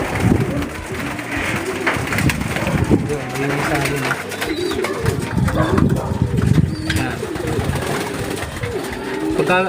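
Pigeons coo in low, repeated warbling calls close by, with occasional wing flutters, while a person talks quietly over them in Filipino.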